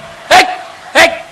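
A human voice imitates a dog, giving two loud, sharp barks about half a second apart with a pause between them.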